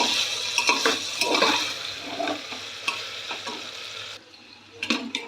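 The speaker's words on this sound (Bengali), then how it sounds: "মাংসটাকে এভাবে কিছুক্ষণ কষিয়ে নেব" Mutton sautéing in a pressure cooker over a gas flame: close sizzling with repeated scraping and stirring knocks, a low burner hum beneath, easing briefly near the end before more stirring.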